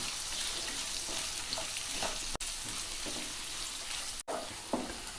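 Sliced onions sauté with salt in a hot pan for a mushroom gravy, a steady sizzle and crackle of frying with occasional scraping stirs of a spatula, close and continuous.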